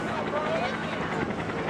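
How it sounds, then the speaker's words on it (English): A Huey helicopter gets ready to take off at the 2011 Courtland Air Show, its steady, pulsing rotor and engine noise filling the background beneath a speaking voice. "I love to hear those helicopters. The big Huey's about to take off."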